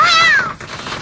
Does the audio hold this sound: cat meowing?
yes